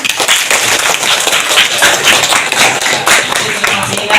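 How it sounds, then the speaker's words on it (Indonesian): Classroom applause for an Islamic scholars lesson, dense rapid hand clapping from a group of students filling the moment steadily without pause. "Ya, tepuk tangan."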